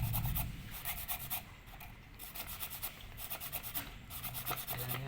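Steady rhythmic rubbing and scraping, a close abrasive back-and-forth sound of wet sandpaper sanding a Kijang Super brake part, with a slightly wet, gritty texture, continuing without pause.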